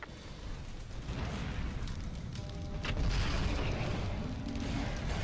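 Missile explosions in the Mechwarrior 4 Mercenaries video game, a dense, continuous rumbling roar of blasts that swells louder midway, with no speech.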